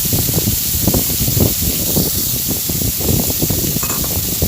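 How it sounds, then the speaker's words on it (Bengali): Thin, long strips of bitter gourd, seasoned with turmeric and salt, fry in hot oil with a loud, close, continuous sizzling hiss that crackles in uneven bursts. "এই উচ্ছেটাও ভেজে আমি তুলে নেব।"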